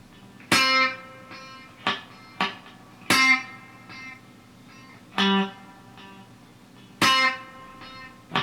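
Slow single-note country train beat on electric guitar with ghost notes: a relaxed cycle of ringing picked notes alternating with short damped ghost plucks, repeated several times, close-miked and unaccompanied, with no voices.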